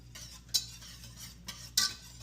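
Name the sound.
whisking chicken broth into roux in a pot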